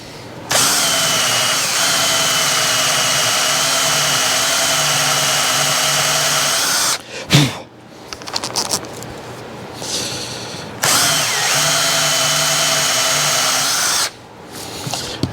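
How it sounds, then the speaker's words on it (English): A power drill whines steadily for several seconds drilling a pilot hole in wood, pauses with some clattering and handling noise, then runs again in a second long burst. "We're going to drill the pilot hole as deep as we can get it."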